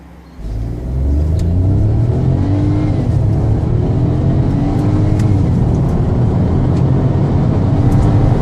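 A Ford Fiesta EcoBoost accelerates hard from inside the cabin, its small engine droning loud and steady as revs climb in rising sweeps through the gears, with no voices over it.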